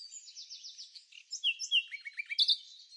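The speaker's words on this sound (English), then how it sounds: "Meet the Chinese Hwamei, the little brown bird that can outsing half the pop charts" A Chinese Hwamei, a small brown songbird, sings a quick run of varied, whistled phrases with rapid trills. The song is close and clear against silence.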